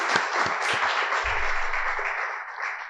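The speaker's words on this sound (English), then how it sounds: "Let's give a big round of applause for Plan Pilot." An audience applauds the second runner-up at a technopreneurship competition grand finale, a few sharp claps opening into steady crowd clapping that slowly thins, with a brief low rumble partway through.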